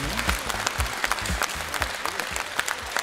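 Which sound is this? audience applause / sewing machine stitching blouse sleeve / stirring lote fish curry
audience applause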